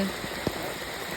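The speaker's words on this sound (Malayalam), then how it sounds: "എത്രയും നേരം നിർത്താണ്ട് പെയ്തിക്കണേ" Steady rain falling on a surface, a dense even patter with one brief louder drop.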